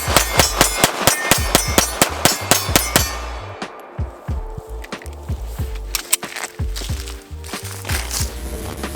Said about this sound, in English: Testing ain't complete without a good mag dump